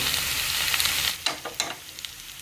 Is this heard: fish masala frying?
yes